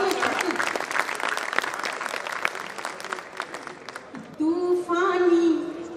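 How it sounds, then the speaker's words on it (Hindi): A crowd at a Hindi poetry recital claps in steady applause for several seconds, then a voice begins speaking as the clapping fades. "एक बार तालियों से मुझे आदेशित करो।"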